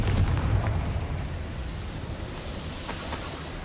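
A Confringo blasting spell explodes in the game Hogwarts Legacy, a dense rumbling boom whose heavy low-end burst hits at the start and then trails off into a sustained noisy roar.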